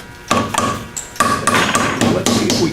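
Sharp hammer-like taps seating a piston level into a small engine block, about five distinct knocks spread unevenly with a brief ringing metallic tone, close and fairly loud with no talk.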